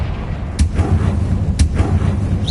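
Two sharp blasts from the Confringo fire spell in Hogwarts Legacy, each a sudden bright crack with a low boom, about a second apart, over a steady rumbling game background.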